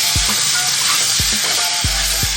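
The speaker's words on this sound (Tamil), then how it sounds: "சேர்த்துவிட்டு இப்போ நல்லா இந்த மாதிரி கிளறி விடுறோம்." Chili powder and garam masala fry in a pan with a bright, constant sizzle while a utensil scrapes and thuds against the pan several times during stirring.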